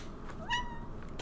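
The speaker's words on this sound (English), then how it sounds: "Kitty." A house cat gives a single short, rising meow, fairly close but not loud, against a quiet room background.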